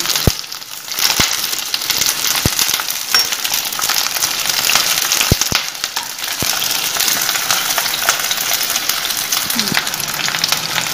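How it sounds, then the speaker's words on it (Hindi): Onions fry in a pan for spicy masala bhindi, a loud dense sizzle running throughout with scattered sharp clicks of a utensil against the pan, close and continuous, no talking. "इतना ही प्याज हमें भूनना है।"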